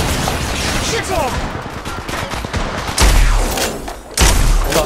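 Gunfire in the battle royale game Apex Legends Mobile comes as dense rapid bursts and booming shots over a busy game soundscape, with voices heard at times.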